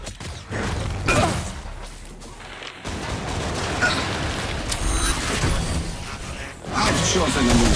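Gunfire from a boss character in the Killing Floor 2 game, dense and loud throughout, with repeated shots and mechanical clatter blending with game effects and voice lines.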